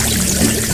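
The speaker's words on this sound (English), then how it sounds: "I'll just turn off the water." Water pours steadily from the tap of a toy kitchen sink, a continuous close splashing stream that runs without break.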